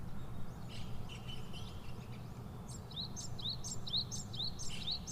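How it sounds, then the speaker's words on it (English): Chirping bird calls used as a sound effect for a children's fable about a bird and a clam on a beach, a series of short bright tweets repeating through the second half over a steady low background hum. "A bird was flying along the beach and saw a clam on the beach near the boulder rock."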